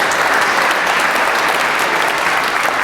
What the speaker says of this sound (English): I think those of you who voted for that one deserve a round of applause.